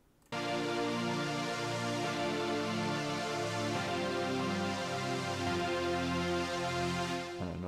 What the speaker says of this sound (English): you could move on to the rhythm line, which sounds by itself, sounds like this